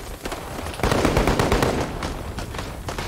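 A mortar fires during a heavy city-defense battle in the video game Call to Arms. Dense, continuous booming and rattling gunfire fills the mix, with a louder swell of blasts partway through and no pauses.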